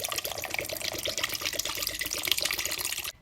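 Canned beef stock pours steadily into a cooking pot, a continuous close liquid splash and gurgle that runs for about three seconds and then stops abruptly.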